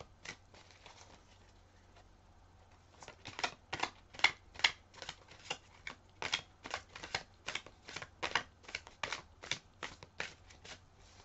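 A deck of tarot cards being shuffled up close, a rapid train of crisp riffling flicks and taps in quick bursts, quiet and alone with no talk.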